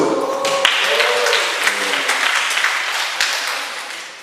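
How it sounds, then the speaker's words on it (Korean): Church youth retreat audience breaks into clapping, a fairly loud burst of many hands that stays dense for a few seconds and then thins out, with speech over the start. "우와, 박수."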